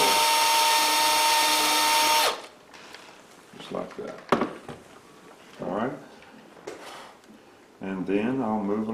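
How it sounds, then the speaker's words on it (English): Power drill boring a hole through a bear claw for a necklace, a loud steady whine for about two seconds that stops abruptly, followed by scattered handling clicks and brief talk. "what I'm going to do is just sort of re-drill it"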